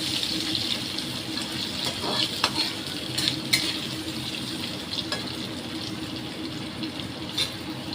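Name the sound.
raw mango pieces frying in hot oil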